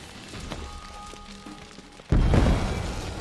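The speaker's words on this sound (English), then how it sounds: "This bomb or whatever it is." A bomb detonates in The Witcher 3 with a sudden loud, deep boom partway through, its rumbling roar sustained to the end over quieter game sounds before it.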